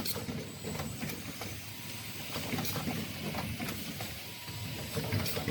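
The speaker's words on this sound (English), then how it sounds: "The machine automatically completes the processes, such as pressing the light source board, installing the lamp head, testing," An automatic E27 LED bulb assembly line machine runs steadily, giving a continuous dense mechanical clatter and whir with faint rhythmic ticks throughout. No one speaks.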